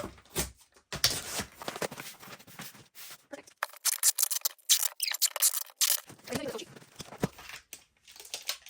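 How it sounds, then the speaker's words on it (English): Scissors snip and crunch through shipping packaging being trimmed to fold better around an oversized item, with crisp, irregular cuts mixed with crinkling and rustling of the material, close up. "I'm probably going to cut this little bit off right here, just so it'll fold better."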